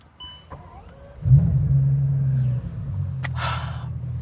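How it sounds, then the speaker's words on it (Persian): Bugatti supercar engine starting up: a brief starter whir, then the engine catches with a loud rising roar that settles into a steady idle rumble, followed by a short hiss. "اول از همه یه استارت بزنیم روش نوشته انجین"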